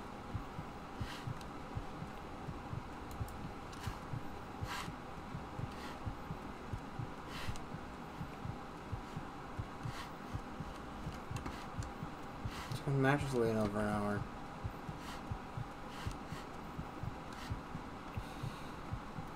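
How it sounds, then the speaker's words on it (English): A low heartbeat thumps in the game Fallout 3, a steady repeating pulse running under a quiet background while a voice speaks briefly near the middle. "the fucking heartbeat is just as annoying as the Zelda noise, if not more so"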